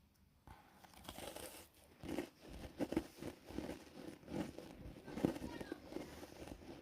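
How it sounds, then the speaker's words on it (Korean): Birthday cookie being eaten, quiet crunchy bites and chewing come in irregular bursts, close and faint, with light crinkling between them. "마지막에 쿠키입니다. 먹어보도록 하겠습니다."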